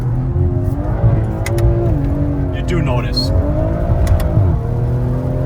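A BMW M340 with turbos accelerating hard, its engine note climbing and dropping through gear shifts with a brief tire chirp, loud and close while someone talks over it.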